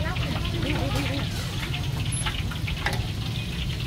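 Food frying in a pan at a rice stall in a market, a steady close sizzle running throughout while people talk over it.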